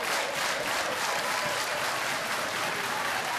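A wrestling arena crowd at the WOS Wrestling event cheers and applauds in a dense, steady roar of clapping and shouting that stays loud and even throughout, with no pauses.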